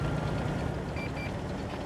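A truck reversing in a video game gives two short, high electronic beeps over a low, steady engine rumble.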